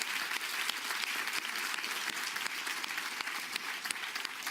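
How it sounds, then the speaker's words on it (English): Audience applause for the panelists at the close of a NATO summit discussion, a dense, steady wash of many hands clapping that holds at an even level throughout, with no voices over it. "With your applause, would you please kindly thank our wonderful panelists for a great discussion."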